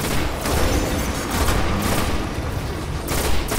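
Dense, continuous gunfire at Fallen Shanks in the video game Destiny, a loud rumbling barrage of overlapping shots and booms with no pause.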